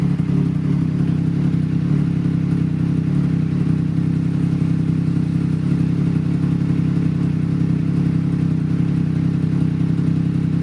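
A Triumph Trident 660 motorcycle idles steadily in a garage with the clutch pulled in, a close, even low engine drone with faint mechanical clatter running unchanged throughout.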